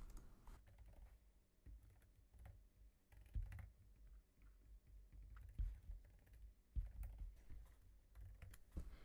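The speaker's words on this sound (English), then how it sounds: "I'm going to type in all three of my kids' names" Keys clatter on a computer keyboard at a quick, uneven pace, with soft close taps and a few louder strokes, while children's names are entered for a Cricut craft project. No voices.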